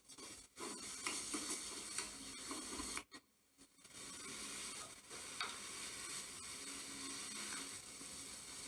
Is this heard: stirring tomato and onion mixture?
yes